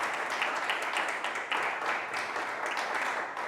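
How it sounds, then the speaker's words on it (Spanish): A church congregation claps together during a worship service, a dense, even burst of applause lasting a few seconds at close range with no talk over it. "Démosle un aplauso al Señor"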